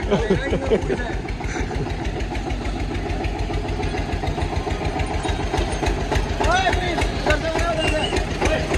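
A tractor engine idles nearby with a rapid, regular chugging pulse throughout, while people talk over it.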